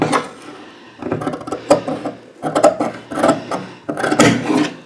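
Scissors cut through blouse fabric at a tailoring table in several separate rasping strokes, each a short scraping burst with brief pauses between, close to the listener.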